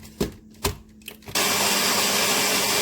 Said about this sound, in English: So now you're just going to take all your ingredients and blend them up.